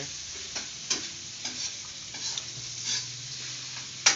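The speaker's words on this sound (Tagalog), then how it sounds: "Panoorin muna natin habang ginigisa yung corn beef." Corned beef sautés in a hot pan with a soft continuous sizzle, broken by repeated scraping and clacking stirs from a utensil at an uneven rhythm, close and fairly quiet.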